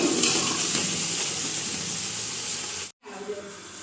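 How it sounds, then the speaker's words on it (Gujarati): Water pours into a pot of seasoned, tempered amaranth greens, a steady close hiss of splashing liquid that runs for about three seconds before cutting off sharply. "હવે આપણે એમાં પાણી નાખશું"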